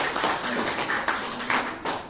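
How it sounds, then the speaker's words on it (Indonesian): An audience at a talk claps for two people who asked questions, a short, fairly faint patter of applause lasting about two seconds. "kasih tepuk tangan kedua penanya ya"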